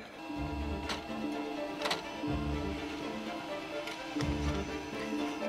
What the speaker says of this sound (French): Donc ensuite, je vais venir la placer dans l'imprimante